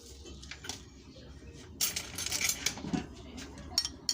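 A utensil stirs egg yolk with a little Nescafé instant coffee in a bowl, giving soft scraping and a few light clinks. It stays faint and close, with a brief quick run of taps toward the end.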